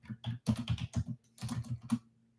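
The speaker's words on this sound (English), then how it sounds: "I'll type it here." Quick bursts of clacking keystrokes on a computer keyboard, two fast runs of taps separated by a short pause, close and clear with no voices.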